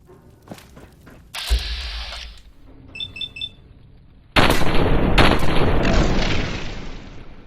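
Combat shotgun blasts in Fallout 4, a heavy boom near the start and a louder sustained burst of firing later, with sharp beeping tones in between and no talk.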